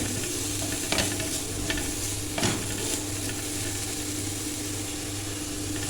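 Grated carrot frying in a pan, a steady close sizzle with a few sharp scrapes of stirring, alone and even throughout.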